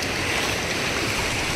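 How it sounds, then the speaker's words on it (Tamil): Rushing stream water at a river crossing on the Dudhsagar Waterfall trek, a steady, loud, broadband wash with no talk over it. "பா செமையாக இருக்குது வாட்டர் கிராசிங்கு, தண்ணி செம்ம சில்லுன்னு இருக்கு."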